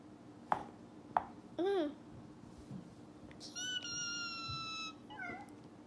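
A kitten meows several times while being brushed, with harmonic, wavering cries close to the microphone. Soft brushing and handling noises sit between the meows.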